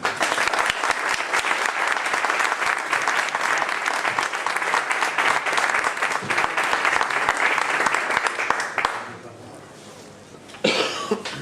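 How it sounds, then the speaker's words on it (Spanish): Audience applause closing a machine learning competitions meetup, dense sustained clapping from a room of people for about nine seconds, with a few coughs, then fading to near quiet before a brief final burst. "Y un aplauso para ellos para cerrar."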